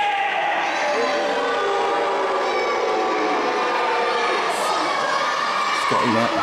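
Large wrestling crowd at a KAPOW Wrestling show in Southampton, a steady, loud roar of voices and shouting that holds throughout, dense and close with no clear breaks.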